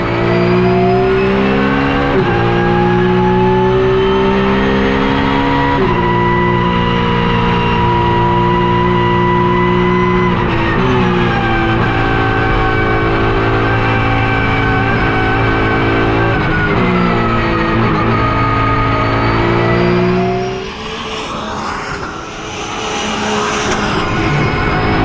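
A GT race car at the Nürburgring 24 Hours holds a loud, close, sustained engine howl throughout, with several brief dips at gear shifts, before the tone falls away and thins near the end.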